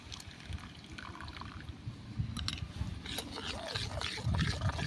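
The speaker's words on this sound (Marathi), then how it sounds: "कैरी जे शिजवलेलं होतं ना पाणी तेच टाकून घेऊया" Water left from cooking raw green mango is poured into mashed mango for a mango kadhi, a soft close trickle and splash over faint background noise, growing a little louder toward the end.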